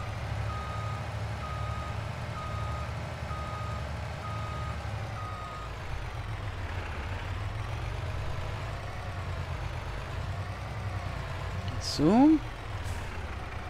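Pickup truck driving in Farming Simulator 22, a steady game engine drone with a reversing beep early on and a brief swooping tone near the end, under a man's speech.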